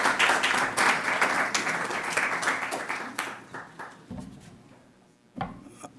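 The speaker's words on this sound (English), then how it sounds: "please join me in giving a round of applause to Mr." Audience applause at a Carnival Village pioneers event, a dense crackle of clapping that thins and fades near the end, with a brief burst of louder claps just before it closes.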